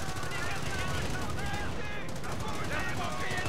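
Dense, continuous machine gun and rifle fire rattles through a World War II battle in the real-time strategy game Company of Heroes, with bursts layered over one another and some voices mixed in.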